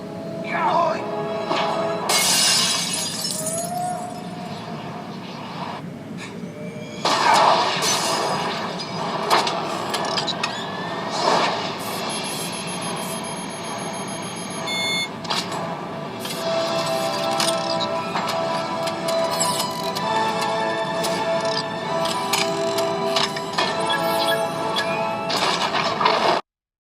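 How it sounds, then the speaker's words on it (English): Glass smashes as a man is hurled through a window in a fight scene from the first Avengers film, with loud crashes and debris amid dense cinematic effects and music, and voices briefly heard. "To find the velocity that Tony is thrown through the glass at"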